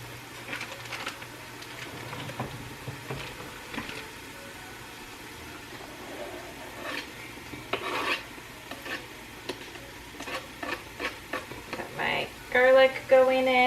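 Chopped onion added to a hot pan for a bean dish sizzles and rasps steadily at low level, with scraping stir strokes and a few louder clatters and bursts near the end.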